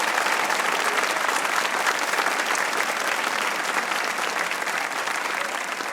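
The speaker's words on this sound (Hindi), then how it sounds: "आपके लिए बहुत सी बहुत तालियां" Sustained studio audience applause at a comedy talk show, a dense steady roar of many hands clapping at once, loud and continuous throughout.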